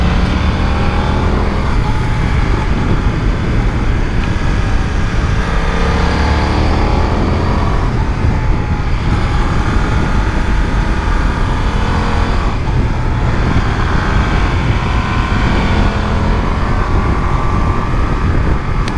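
A BMW F900 R motorcycle engine hums steadily while being ridden, a constant loud drone with rising and falling pitch sweeps as the bike accelerates and eases off, mixed with wind rush.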